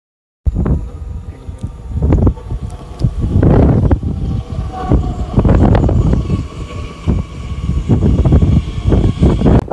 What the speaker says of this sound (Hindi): यार मौसम काफ़ी ठंडा है, हवा चल रही है